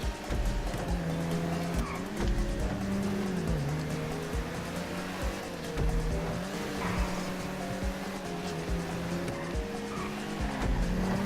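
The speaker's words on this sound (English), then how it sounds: "I braked a little too early into that corner then." Race car in Grand Theft Auto Online roars steadily while braking into a corner, its engine pitch shifting over continuous tire noise, with no talking.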